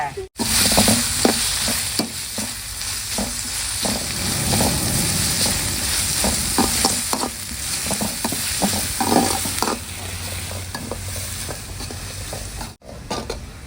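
Crushed shallots sautéing in a pan for sambar, a loud close sizzle broken by repeated rhythmic spatula scrapes and knocks against the pan, with a short cut at the start and end.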